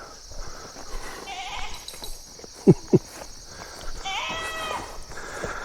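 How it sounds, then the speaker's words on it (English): Goats bleat now and then over an outdoor background, with two short, louder calls close together midway and more distant bleating toward the end. "We got goats yelling."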